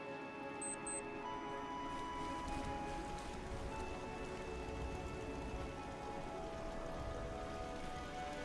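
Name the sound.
rain in the video game Fallout 4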